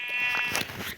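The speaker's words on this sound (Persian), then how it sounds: "سلام علیک آقای گوسفند" A single short sheep bleat from the video game Minecraft, clear and close, lasting under a second with no talking.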